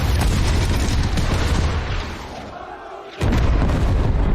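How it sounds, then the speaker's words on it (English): Cannon fire at the pyramids in a Napoleon film sounds as dense, booming blasts with roar and crowd noise, briefly easing before another loud surge. "Oh, shooting at the pyramid."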